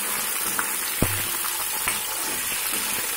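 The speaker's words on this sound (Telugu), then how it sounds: "ఇలాగా 2 మినిట్స్ వేయించుకోండి, ఎక్కువసేపు అక్కర్లేదు" Prawns frying briefly in a pan with lemon: a steady, even sizzle runs throughout at close range, with a few faint stirring knocks, and no voices.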